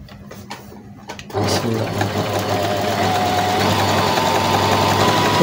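A zigzag sewing machine starts up and stitches steadily over a flower design, a loud continuous whirring hum close by after a few soft handling clicks.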